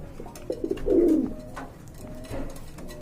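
A pair of German Beauty Homer pigeons cooing close by, a few soft throaty coos bunched together and then a longer rolling call, with quieter murmurs after and no talk.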